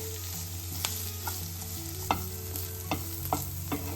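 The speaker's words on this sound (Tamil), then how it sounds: "கட் பண்ணி வச்சுருக்க வெங்காயத்தை சேர்த்துறேன். இந்த வெங்காயம் கொஞ்சம் வதங்கட்டும்." Chopped onions sautéing in a pan for smoky paneer, a close continuous sizzle with a steady hum beneath and several sharp stirring clinks and scrapes spaced irregularly; no talking.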